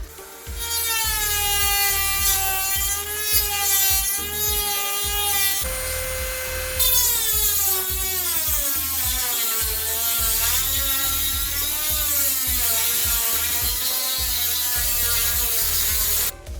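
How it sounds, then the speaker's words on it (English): A Dremel rotary tool cuts freehand through a PC case panel with a continuous high whine that shifts in pitch as the bit loads and frees up, steady and close for the whole stretch. "freehanding it with the Dremel"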